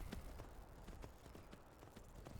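Horse hooves clip-clop at a steady trotting rhythm in the video game Skyrim, soft and fairly faint, with a muffled low rumble underneath and no speech.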